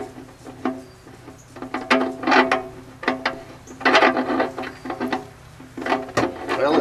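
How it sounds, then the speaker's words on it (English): A brand new plug being screwed in by hand, giving uneven bursts of ratcheting, clicking mechanical turns separated by short pauses, close and fairly loud. "we have the brand new plug, and we're going to screw it in here"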